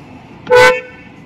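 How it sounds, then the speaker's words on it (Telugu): A single short horn honk from a 2024 Hyundai Creta N Line facelift, loud and close, a brief toot standing out against quiet background. "హారన్"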